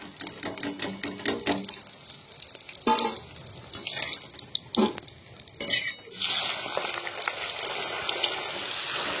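Boiled ingredients for a vegetarian mixed rice frying in oil in a pan, with spatula scrapes and clatter against the pan over a steady sizzle that grows louder toward the end.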